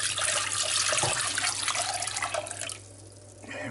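A litre of boiling water is poured steadily into a pot to make hop tea for a home-brewed steam ale clone, a continuous splashing gush that thins toward the end, with no talking.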